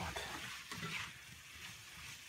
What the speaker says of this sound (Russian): пусть это немножко обжаривается